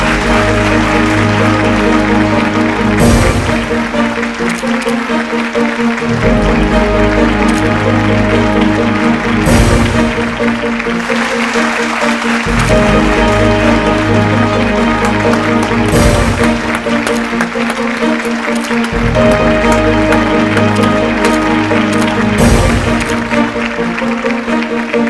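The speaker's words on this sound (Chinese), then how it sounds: "让我们掌声有请任一凡先生" An audience welcomes a speaker at a launch event with loud, sustained applause, full and close the whole way through and broken only by brief swells.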